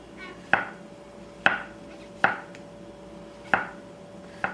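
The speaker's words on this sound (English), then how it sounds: "I like to take some mushrooms, slice them pretty thin." Mushrooms sliced thin with a knife on a cutting board for a vegetable lasagna: five crisp, evenly spaced chops, close and clear, over a quiet room hum.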